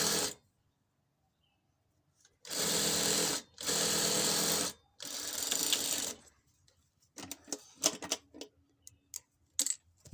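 A sewing machine stitches trousers, running in three loud bursts of steady whirring separated by short pauses, followed by lighter clicks and rattles of the mechanism being handled.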